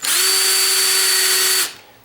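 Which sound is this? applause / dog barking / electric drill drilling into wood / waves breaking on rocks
electric drill drilling into wood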